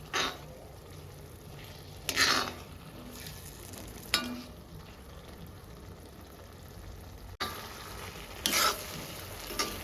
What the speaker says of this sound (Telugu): కొంచెం పచ్చి వాసన పోయేంత వరకు ఫ్రై చేసుకోవాలండి ఉల్లిగడ్డని.